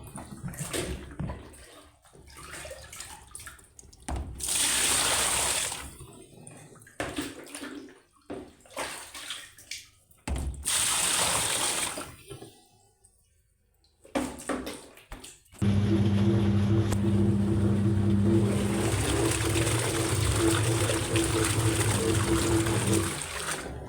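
Clothes washed by hand under running tap water in a home during a morning routine in Algeria; a steady, loud gush of water runs continuously for the later half, after earlier intermittent splashing and trickling bursts.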